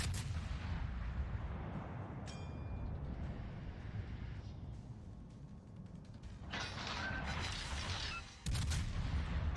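Naval guns fire in the World of Warships game as deep, rumbling booms that roll under a low, steady battle din, fairly faint overall, with a sharper blast near the end.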